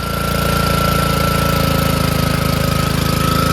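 A small pull-started engine runs steadily, a loud, close, rapid chugging putter with a rough mechanical knock and steady exhaust pulse throughout.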